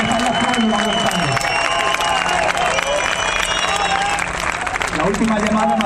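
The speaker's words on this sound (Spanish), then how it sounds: "Y un aplauso para toda esa gente que está en los pueblos de España." Applause and cheering fill a room at a live podcast event, a dense, continuous wash of clapping from a crowd that holds steady throughout, with voices mixed in.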